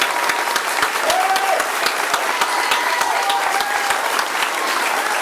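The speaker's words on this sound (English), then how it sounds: "I'd like everybody to give a round of applause for these gentlemen." Audience applause at a county sheriff candidate forum, a sustained wash of many hands clapping at moderate volume, even and continuous across the moment.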